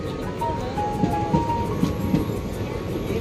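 The Mangaluru Express rolls into a station with a steady, loud low rumble and rhythmic wheel clunks over rail joints, a faint squeal riding above, and voices close by.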